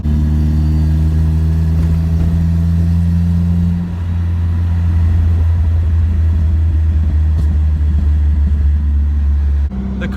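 A Mazda Miata fitted with a swapped Ecotec engine runs with a deep, loud, steady exhaust rumble that dips briefly partway through, close to the car with no talk.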